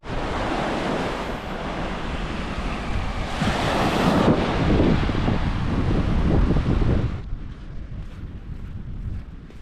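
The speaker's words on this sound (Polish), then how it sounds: "tutaj też słyszę te fale" Loud ocean surf rolls and crashes continuously on a beach, mixed with heavy wind buffeting the microphone, then eases off near the end.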